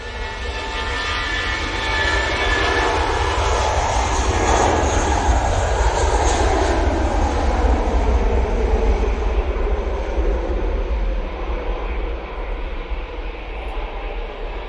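An airliner departs Manchester Airport for Heathrow with a loud, sustained engine roar that swells and then holds, its pitch sweeping as it passes, heard alone without talk.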